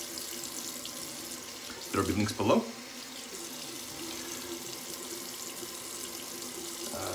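A bathroom tap runs steadily into a sink during a wet shave, a continuous, close hiss of flowing water that carries on beneath a brief stretch of talking.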